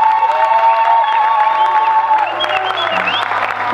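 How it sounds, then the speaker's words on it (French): A live studio audience applauds loudly for the dance troupe Les Fantastiques, thick clapping mixed with cheers and whoops, along with a sustained musical tone that cuts out partway as the crowd noise continues. "On applaudit une fois de plus très fort pour les Fantastiques."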